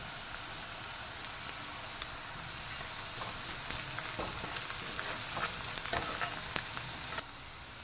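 Green chillies dropped into hot oil with browned onion in a pan, a steady bright sizzle with scattered crackles and pops that grow busier toward the end, no voices.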